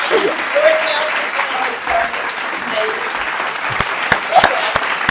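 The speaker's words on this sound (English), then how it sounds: "Well, a round of applause, please, for Mr. Robert Banks." An audience applauds a filmmaker at a jazz-and-photography event, with steady clapping filling the room near and loud for the whole stretch, some individual claps standing out toward the end.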